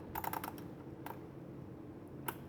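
Keys pressed on a braille writing machine, a quick run of sharp mechanical clacks followed by a couple of isolated presses, close and clear against a quiet room.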